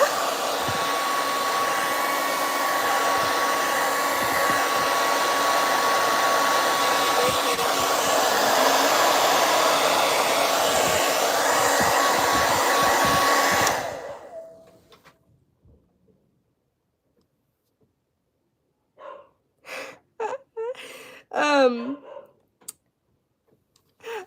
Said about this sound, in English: Aaliyah, turn off your hair dryer.